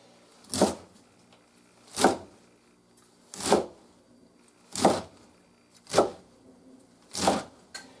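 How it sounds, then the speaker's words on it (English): Six crisp knife cuts through lambsquarter stems on a cutting board, evenly spaced about every second and a quarter, close and distinct against a quiet background. "I'm going to cut the stems into pieces 1 to 2 inches long"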